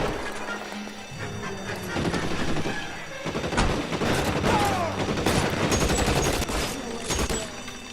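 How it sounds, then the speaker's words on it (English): Rapid bursts of Tommy gun fire in the video game L.A. Noire, dense automatic volleys crackling continuously with sharp impacts and debris, loud and close over a busy game soundtrack. "Let's get the Tommy guns."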